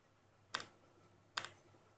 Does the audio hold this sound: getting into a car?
no